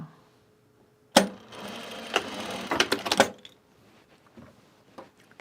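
A sewing machine pad-stitches a garment duffle bag in one short burst of rapid mechanical whirring and clatter lasting about two seconds, then falls quiet apart from faint handling noises.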